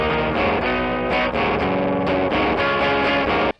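Electric guitar picks single notes through a rare fuzz pedal, a loud, thick, distorted tone ringing continuously with sharp note attacks before cutting off abruptly.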